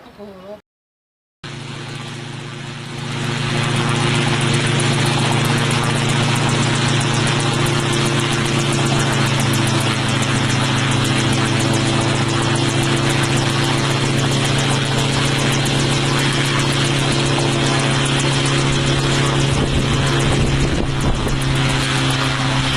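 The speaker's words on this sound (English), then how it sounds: "about to take his homemade chopper for a test flight" A homemade helicopter's loud, steady engine drone with a rhythmic rotor beat starts after a brief quiet moment and holds constant, close by, with no talking.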